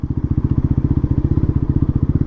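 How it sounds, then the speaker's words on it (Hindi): A Bajaj Pulsar NS400Z motorcycle engine thrums close by at steady revs with a rapid, even pulsing beat, shifting up from first into second gear with no break in the exhaust note. "मैं यहाँ पे सेकंड गियर शिफ्ट कर रहा हूँ"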